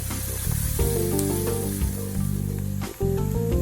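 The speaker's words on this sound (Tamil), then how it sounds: "ஆனியன் நல்லா ஃப்ரை ஆயிடுச்சு" Onions frying in a pan for a prawn fry, a steady close sizzle with brief breaks, heard alone without talk.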